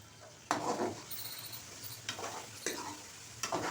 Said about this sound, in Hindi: 1 मिनट तक सिर्फ मसाले को ही फ्राई करें इस तरह चिकन के साथ